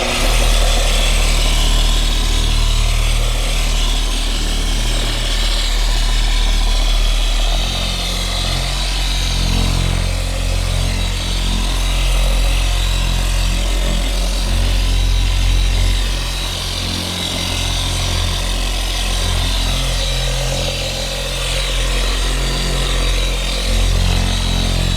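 A dual action polisher runs steadily and loudly throughout as it cleans a leather car seat, a continuous close motor whir with a low rumbling hum and no speech over it.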